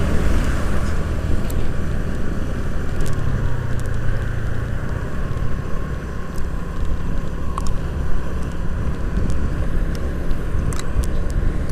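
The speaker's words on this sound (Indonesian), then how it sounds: "Nah, mulai agak ramai kan kendaraan besar." Steady road traffic with large vehicles passing on a road through an industrial area, a continuous broad engine rumble and tire roar with occasional brief louder passes, heard from inside a moving vehicle, with no talking.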